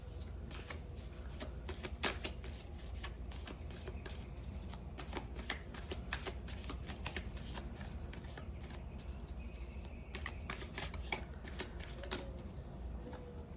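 A deck of cards is shuffled repeatedly, with quick riffling bursts and sharp snapping flicks over a low room hum, close and fairly quiet, with no talking.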